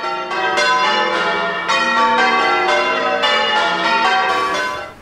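Church bells cast in 1880 by John Taylor and Company peal at Bollington Church, a loud, dense cascade of overlapping rhythmic strikes ringing continuously and close, with rich lingering overtones and no voices.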